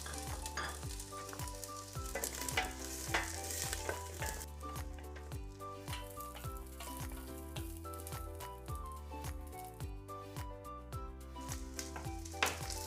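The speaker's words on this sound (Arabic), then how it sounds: "بدي أضيف البصل والثوم أول شي." Onion and garlic fry in a pan with a continuous sizzle, broken up by clattering stirs and utensil scrapes close by.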